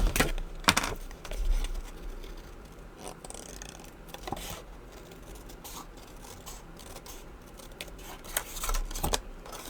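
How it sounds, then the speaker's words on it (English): Close scissors snipping through paper, a series of crisp irregular cuts with rustling and small handling noises between them. "I'm going to pull out my fussy cutting scissors so we can fussy cut around this here."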